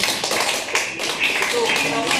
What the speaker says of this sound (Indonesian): tepuk tangan semua teman-teman ya